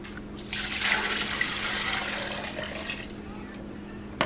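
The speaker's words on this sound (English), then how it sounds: "We're going to pour the water over in the pot." Water pours into a cooking pot for chicken noodles, a steady splashing rush lasting a few seconds at moderate level, ending with a small clunk.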